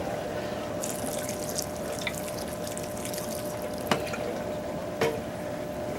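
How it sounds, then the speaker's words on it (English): Water trickles steadily into tomato-slip potting mix with peat moss, a soft continuous pour with a couple of brief louder drips near the end. "So I'm going to add some water to this to get at least some moisture started."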